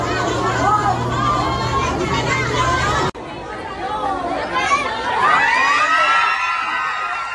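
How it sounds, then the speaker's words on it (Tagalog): A crowd in Manila yelling and squealing excitedly, dense overlapping voices with children's shouts, loud and continuous, briefly cutting out midway before the excited clamor resumes. "Ayan yung sigawan na ganyan"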